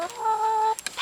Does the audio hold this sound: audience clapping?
no